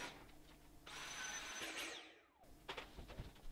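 A vacuum cleaner sucks up loose polystyrene packing bits. It runs with a steady close whine for about a second and a half and then winds down, followed by light handling clatter.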